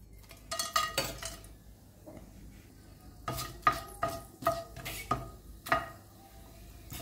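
Whole cloves, star anise, a cinnamon stick and bay leaf fry in hot oil in a pan, with soft sizzling beneath repeated sharp clinks and scrapes of a metal spoon stirring against the pot.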